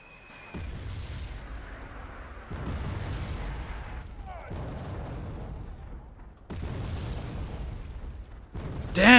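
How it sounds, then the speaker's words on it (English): Mortar fire in the strategy game Wargame: Red Dragon: five heavy booms come about two seconds apart, each trailing off into a rumbling decay, and the last is the loudest. "those mortars are actually going real really ham"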